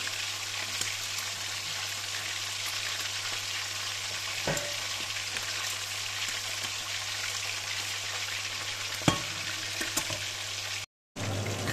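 Boneless chicken thighs fry in olive oil in a pan, a loud continuous sizzle with occasional sharp pops and crackles throughout.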